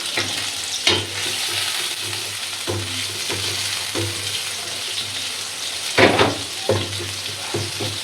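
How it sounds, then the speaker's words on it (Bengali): Garlic, onion and green chilies fry in hot oil with a dense, loud sizzle, punctuated by sharper bursts and stirring scrapes, with a low steady hum underneath and no talking. "কাঁচামরিচ পেঁয়াজ রসুন ভাজা ভাজা হয়ে গেছে"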